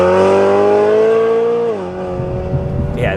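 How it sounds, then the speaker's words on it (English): A BMW 1M swapped to a V8 with a Venturi plenum holds a loud, steady engine and exhaust drone from inside the car. The pitch drops as it shifts or lifts off, leaving a rougher, lower rumble. "this engine with this gearbox in this car is just so good"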